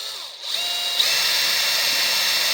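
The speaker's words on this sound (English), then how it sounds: "we can drill it like so" An electric drill spins up and runs continuously at a high, steady whine, close and loud with no voices.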